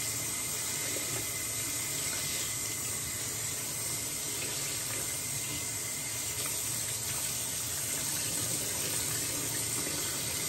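Tap water runs steadily into a sink to heat a washcloth, a continuous even gush that is close and stays unchanged throughout.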